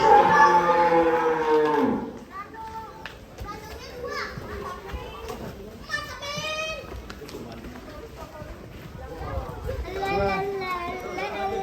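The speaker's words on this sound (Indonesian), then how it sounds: "Ini sapi apa ini?" A sacrificial cow for Eid al-Adha lets out a long, loud moo close by, followed by children chattering and playing in the background.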